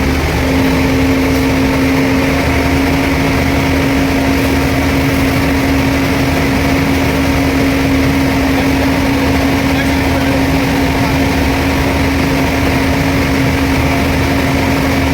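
An SLM self-loading concrete mixer's engine runs steadily at high throttle on its hand accelerator, giving a loud, continuous, droning roar with a strong steady hum and no breaks, heard close up.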